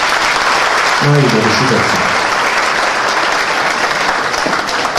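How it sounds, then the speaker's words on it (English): A crowd applauds steadily and loudly at a ceremony honouring committee members, the dense clapping running the whole time while someone briefly speaks over it. "Please give them all a round of applause."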